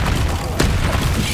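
Spell blasts from Bombarda and Confringo burst in the video game Hogwarts Legacy during a troll attack: a dense, continuous rumble of booming impacts with one sharper burst midway, loud and close throughout.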